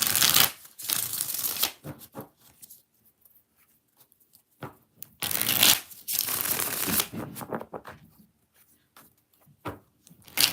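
Tarot cards are shuffled in six quick riffling bursts separated by short pauses, close and crisp.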